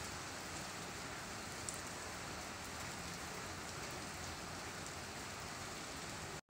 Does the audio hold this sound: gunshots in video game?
no